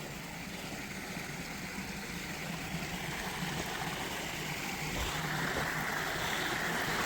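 A small stream runs through a narrow tunnel at a railway tunnel construction site, making a steady rushing water noise with a hollow, echoing quality that holds constant throughout.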